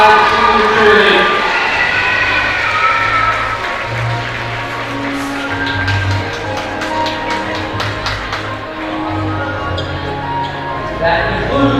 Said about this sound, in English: let's have a big round of applause for our 2025 senior cheerleading